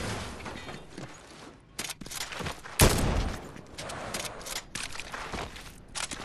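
Gunfire in a video game, rapid bursts of sharp shots with one loud blast in the middle, dense and close, with no talking.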